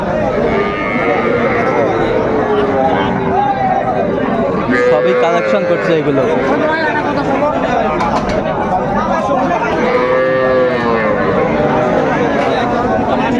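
Young bulls and heifer calves at the Raniganj cattle market in Dinajpur moo repeatedly, with drawn-out lowing calls rising over a dense, constant crowd of voices as people talk nearby.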